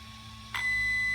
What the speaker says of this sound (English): there's that 1 long beep